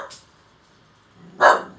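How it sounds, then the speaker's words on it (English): A pet dog indoors gives a short bark, then after a pause a louder, fuller bark, both fairly close with no talking over them. "And now my dog is barking at nobody."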